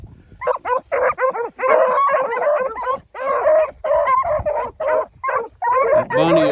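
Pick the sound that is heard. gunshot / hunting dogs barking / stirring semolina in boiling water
hunting dogs barking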